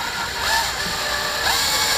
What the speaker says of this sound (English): I just got to drill the holes for the stitching to go through.